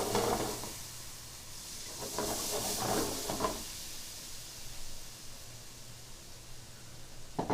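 White wine splashing into a hot pan of shrimp scampi gives a loud hissing sizzle at the start, settling into a softer steamy hiss with a couple of stirring clatters midway.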